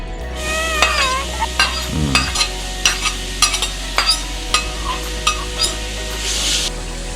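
Quail stir-fried in a pan for a spicy southern Thai red curry paste dish from Narathiwat: a spatula scrapes in a regular rhythm of about two strokes per second over a continuous close sizzle, with no talking.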